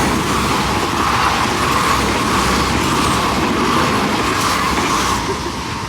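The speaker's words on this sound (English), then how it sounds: "Kind of wrecks the audio having a train going by." A train rumbles past close by with a steady, loud rolling roar of wheels and cars on the rail, lasting throughout and easing slightly at the end, with no talking over it.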